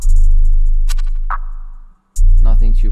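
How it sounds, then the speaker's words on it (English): A punchy electronic drum beat in a bouncy type-beat style: deep booming kick, a sharp snare hit and crisp hi-hats, cutting briefly to silence before kicking back in. "And then we have the main drums, which sound a bit like this together."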